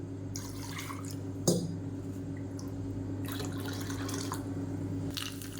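Rinse water from a mixer jar pours into coconut chutney, giving soft trickling and splashing over a steady background hum, with one sharp clink of the jar and a few scattered liquid bursts.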